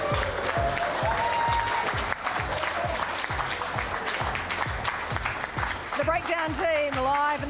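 A crowd at the Harbour Club in Port Chalmers, Dunedin, applauds steadily with scattered cheers, a dense, close sound running throughout, with voices rising over it near the end.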